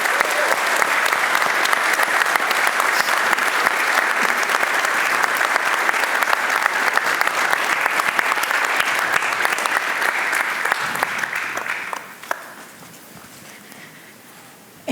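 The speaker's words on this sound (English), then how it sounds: "So give a round of applause for her." Sustained audience applause in a theater after a school stage production of Little Women, dense and steady for about twelve seconds before thinning and fading out.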